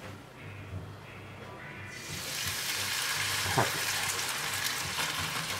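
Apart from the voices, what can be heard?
bacon frying and sizzling in a pan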